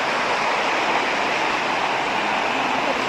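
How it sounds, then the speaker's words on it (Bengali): Mountain waterfall near Sonada in North Bengal, a loud, dense and steady rush of falling water filling the scene; crickets and frogs are not distinguishable beneath the roar. "এখন শুধু ঝিঝি পোকার আওয়াজ,"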